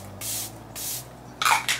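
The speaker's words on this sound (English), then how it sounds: "And then I set everything with the Charlotte Tilbury Airbrush Flawless Setting Spray." Charlotte Tilbury Airbrush Flawless Setting Spray misted from its bottle in several short hissing bursts, two longer sprays followed by two quicker ones, close and clear in a quiet room.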